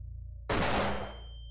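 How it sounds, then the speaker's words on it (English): A flashbang grenade goes off in the Open Xcom strategy game: one sudden loud blast with a roaring burst that decays over about a second, alone without talk. "Use flashbang."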